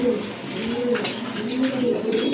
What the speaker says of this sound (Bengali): শার্টিনের নর কবুতর